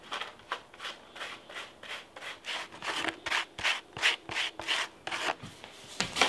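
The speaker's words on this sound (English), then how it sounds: "We're just gonna sift that." Powdered sugar is pushed with a spatula through a colander, a steady run of soft scraping, rubbing strokes about twice a second, close and fairly quiet, with no one speaking.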